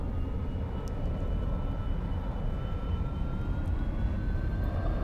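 A simulated aircraft engine in the X-Plane 11 flight simulator drones steadily at moderate loudness, a continuous rumble with a faint rising tone as the throttle is eased up.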